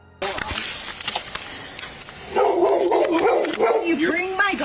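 A dog barks repeatedly during a tense police encounter, sharp and fairly close, mixed with loud voices and noisy outdoor commotion.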